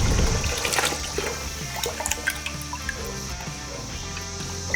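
Brining solution pours into a container holding four quarts of cold water, making a steady rushing, splashing stream that settles into a continuous trickle.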